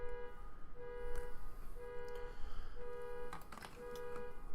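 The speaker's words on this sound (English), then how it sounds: "I apologize for the moron that hit their car alarm and is just letting it run." A car alarm sounds from a shopping center near a home, cycling through repeating electronic tones in steady pulses a short way off, fairly faint under a hum of room noise with no speech.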